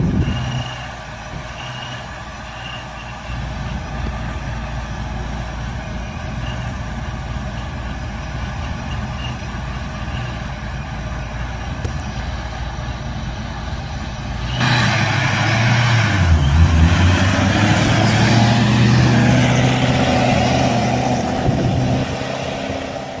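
A boosted C6 Corvette runs on a dyno as a loud, steady engine drone, then surges into a harder, rising pull around the midpoint, with the turbo blow-off valve whoosh landing near the end.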